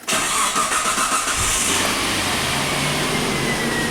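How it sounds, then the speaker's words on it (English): A Suzuki engine cranks and fires up right after clutch reassembly, catching within the first second and settling into a steady, loud, close idle with no talk over it. "Let's just start it up again"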